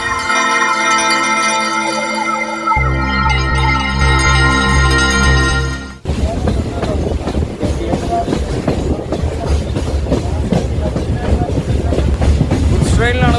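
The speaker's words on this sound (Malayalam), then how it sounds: "ഗുഡ്സ് ട്രെയിനിലാണ് പോയിക്കൊണ്ടിരിക്കുന്നത്." A goods train runs through Braganza Ghat toward Dudhsagar in Goa: a loud sustained tonal blare gives way to heavy rolling rumble and steady clickety-clack of wagons passing close by.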